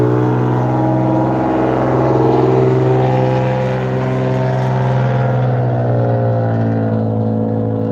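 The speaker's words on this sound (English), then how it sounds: "we listen to the beautiful traffic behind me" Street traffic passes behind a coffee shop as a loud, sustained engine drone that swells and slowly fades, alone with no talking.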